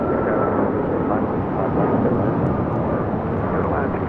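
An Alaska Airlines Boeing 737 MAX 9 jet taking off at LAX, a loud broad steady engine roar that holds throughout, with a voice talking over it.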